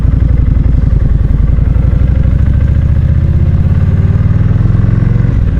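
Kawasaki Vulcan 1600 Classic motorcycle heard from the rider's position, a loud, steady, close engine rumble with a rapid throbbing pulse that rises slightly in pitch toward the end, no talk.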